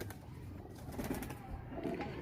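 Pigeons in a loft in Androon Lahore coo faintly, a soft, muffled burble half-buried in steady background noise, with a few slightly stronger swells toward the middle and end.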